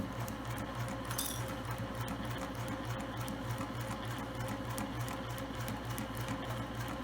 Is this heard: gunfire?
no